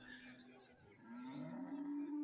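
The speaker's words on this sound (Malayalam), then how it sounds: "ഇഷ്ടം പോലെ പശുക്കൾ വന്ന് മറിഞ്ഞിരിക്കുകയാണ് പശുക്കളും പൈക്കുട്ടികളും" A cow gives a long, low moo that swells and holds at a cattle market. Fainter crowd and market noise sit in the background.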